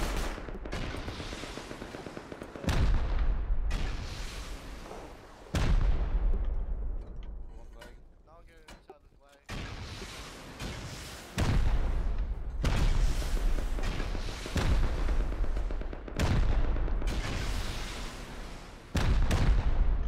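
Video game rocket explosions and heavy gunfire, a series of loud booming blasts and bursts that repeat across the stretch, with a brief quieter gap in the middle and talk mixed in at times.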